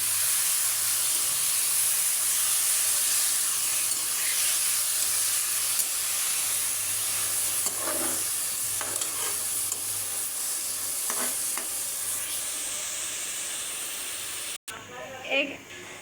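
Water lily stems are stirred into a simmering fish curry with pabda fish and eggplant in a pan, giving a steady sizzling, bubbling hiss with occasional scraping stirs, close and continuous, with a brief pause near the end.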